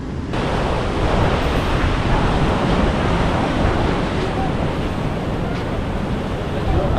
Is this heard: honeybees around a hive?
no